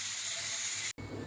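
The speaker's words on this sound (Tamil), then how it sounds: "இந்த பக்கம் குக்கர் விசில் வந்துட்டுருக்கு." Pressure cooker whistle in a home kitchen while a chicken curry is cooking, a steady loud hiss of escaping steam that cuts off abruptly near the end, then a softer background hiss resumes.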